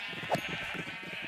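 A sheep bleats once in Minecraft, a short synthetic baa standing out clearly over a steady background hum, with no other voices.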